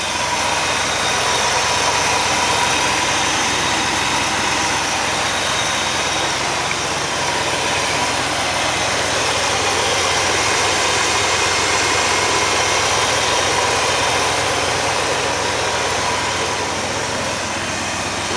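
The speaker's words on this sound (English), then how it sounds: "Let's listen to the motor here." A 1971 Chevrolet 4x4 pickup with a 454 V8 idles steadily, a constant broad rumble and hum that holds unchanged from start to finish with no talk.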